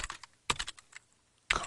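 Keys tapped on a computer keyboard while entering column names into a database query, arriving in short clustered bursts with pauses between, close and fairly quiet, with no one talking.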